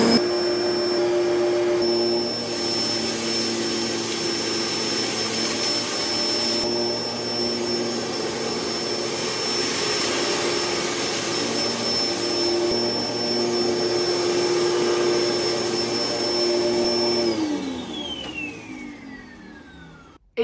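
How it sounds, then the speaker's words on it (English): A Morphy Richards Storm 2000W upright vacuum cleaner running on carpet, a loud steady motor whine with a high tonal hum that holds throughout, then drops in pitch as the motor winds down at the end. "to start hoovering, we push on this pedal to recline the machine like so"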